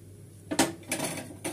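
A rolled bathua paratha laid on a hot tawa and flipped, heard as a few separate metallic clanks and scrapes of a spatula against the pan, close and distinct over a quiet background.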